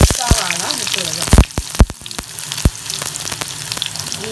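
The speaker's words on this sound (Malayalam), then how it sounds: "ഉലുവ ഒന്ന് ചൂടായി വന്നു കഴിയുമ്പോൾ നമുക്ക് ഇതിനകത്തേക്ക് സവാള ഇട്ട് കൊടുക്കാം." Onion going into hot oil with mustard seeds and fenugreek for a mackerel curry, producing a close, crackling sizzle with sharp popping spatters and stirring noises.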